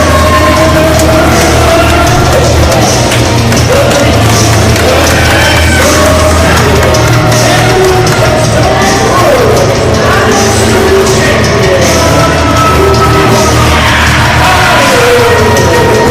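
A wrestling event crowd roars, yells and whoops continuously at high volume as the tag team Big Sad and Franco D'Angelo rouse fans to their feet, a dense, sustained wall of cheering.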